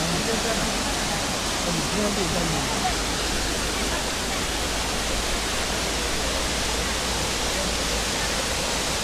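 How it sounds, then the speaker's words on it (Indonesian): Sabet waterfall at Lamno, Aceh Jaya, rushes in a loud, constant roar of falling water heard close up, with an even wash that never lets up. "Inilah air terjunnya."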